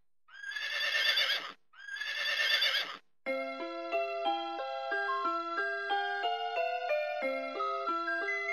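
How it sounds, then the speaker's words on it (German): A 2009 Vtech Singspaß toy microphone plays two loud synthetic horse whinnies back to back, followed by a bright beeping electronic tune. "Pferd."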